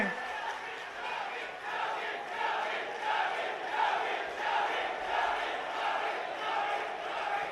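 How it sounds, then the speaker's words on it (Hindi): A large outdoor crowd in Shahjahanpur roars and chants in welcome of Chief Minister Yogi Adityanath at a development-project inauguration, a steady pulsing wall of voices and clapping heard from a distance. "तालियों से आप लोग शाहजहांपुर की धरती पर माननीय मुख्यमंत्री जी का स्वागत कीजिए।"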